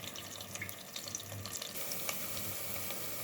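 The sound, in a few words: onions shallow frying in a pan on full flame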